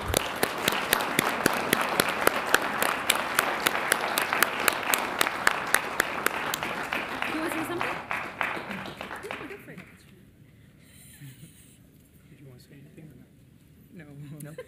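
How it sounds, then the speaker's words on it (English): Audience applause at a city council meeting in Las Cruces, steady clapping for several seconds that fades out, then a voice speaks over the quiet room. "Give them a round of applause, everybody."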